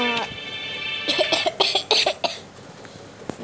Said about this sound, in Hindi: मेरी थोड़ी सी खांसी हो रही है